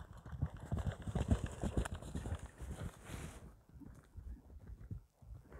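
A fast horse's hooves clip-clop on the ground nearby in a quick, uneven run of thuds that fades and grows quieter toward the end, with faint sounds in the background.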